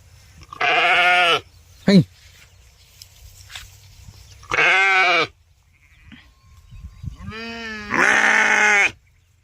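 Sheep out in the rain give several loud, close, drawn-out bleats in separate bursts, with quiet gaps and faint background noise between them.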